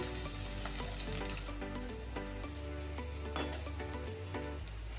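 Whole spices, cardamom, cloves and crushed garlic fry in hot oil for a prawn and pointed gourd dopiaza, giving a close, continuous sizzle with crackling pops and occasional stirring knocks.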